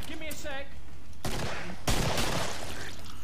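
Gunfire from the Killing Floor video game, a couple of sharp sustained bursts cutting in around the middle, loud over a busy game background with a voice talking early on.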